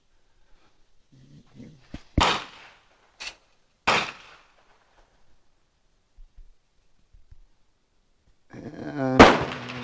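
A handgun with a beavertail grip fired outdoors, two or three sharp loud reports spaced about two seconds apart, with a faint voice early on and a louder speaking voice at the end.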